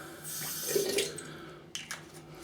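Water runs from a bathroom tap to rinse after a shave, a soft splashing stream that swells and fades with a few brief sharper splashes near the end, quiet and close, with no talk.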